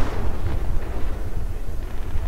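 Rapid gunfire and thudding explosions from the Project Reality military video game on a co-op server, a loud, dense barrage of continuous shots and booms filling the whole stretch.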